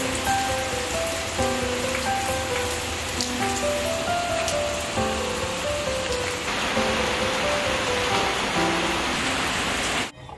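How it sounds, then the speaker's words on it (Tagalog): Rain falls heavily and steadily as a dense, constant patter. A melodic tone pattern plays faintly underneath, and the downpour cuts off abruptly at the end. "Nakakaloka yung ulan."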